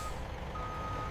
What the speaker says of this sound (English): At the loading dock, a refrigerated truck backs carefully into the bay.